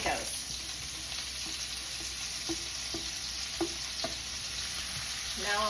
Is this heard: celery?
yes